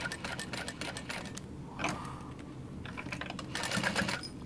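A sewing machine stitches a sling bag, its needle chattering in rapid mechanical bursts that stop briefly mid-way and then resume, close and fairly loud.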